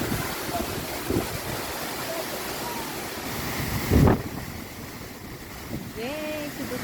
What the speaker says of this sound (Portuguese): quase tenso aqui por causa da força da água dessa cachoeira